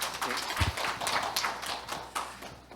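A conference audience at a liberal-arts education forum claps to welcome a presenter; the sparse, fairly quiet applause is brief and fades out, with no one talking.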